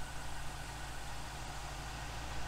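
A 1972 Range Rover engine idling quietly with no engine-driven fan, a steady low, even rumble held at a constant level throughout with no voices over it.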